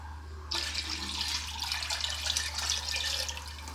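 Water pours steadily from a tap into a pot of stock made with chicken stock and vegetables, a continuous close splashing rush that starts abruptly and runs without pause over a low steady hum.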